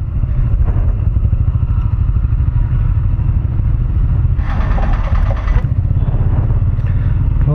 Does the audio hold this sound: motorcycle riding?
yes